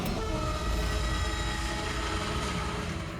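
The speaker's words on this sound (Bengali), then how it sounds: "ট্রেন সুড়ঙ্গ দিয়ে যাচ্ছিল" A train rushing through a tunnel, a dense, continuous roar and rumble with sustained tonal whine, loud and close throughout.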